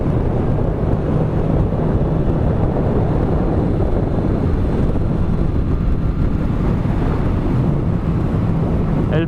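Honda CB650F motorcycle leaning through a run of curves, its engine a steady, loud drone heavily buffeted by wind rush across the microphone throughout, with no change in pace.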